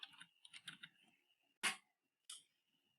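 Quiet, close computer keyboard typing: a short burst of light key clicks followed by two sharper isolated taps, as if pressing enter, with no voice.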